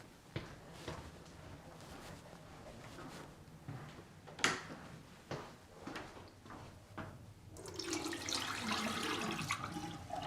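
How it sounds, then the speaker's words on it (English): Dark, ink-tinted water from watercolor work with Distress ink is tipped out after scattered knocks and clatters, ending in a steady rushing pour that grows louder, with no talk. "I'm going to go dump this water before I spill it"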